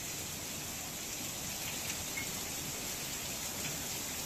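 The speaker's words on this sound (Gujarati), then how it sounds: "જ્યાં બપોર બાદ વરસાદની શરૂઆત થઈ છે" Heavy afternoon downpour over Bhavnagar, Gujarat: dense, steady rain hiss fills the whole stretch with no pauses, loud and even, with no voices.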